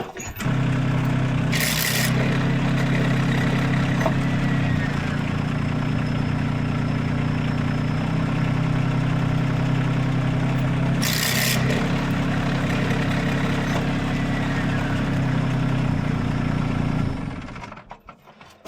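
A Mech Maxx SG24Pro small engine runs steadily for about seventeen seconds while its clutch is slipped, with a constant low drone, two brief bursts of high hiss, and the running sound cutting off at the end.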